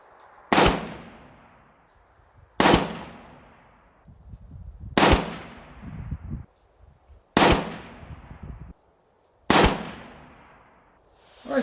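Five loud, sharply cracking shots from a PSA 6.5 Grendel rifle firing handloaded 123-grain SMK rounds with XPR 8208 powder at an outdoor range, spaced a couple of seconds apart, each with a ringing decay.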